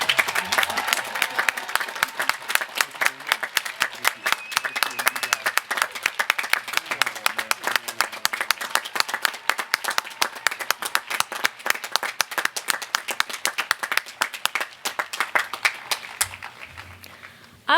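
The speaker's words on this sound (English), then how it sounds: "give one more very grand round of applause" A large audience at a law school commencement ceremony claps in a long, dense round of applause, steady and loud for most of its length before tapering off near the end.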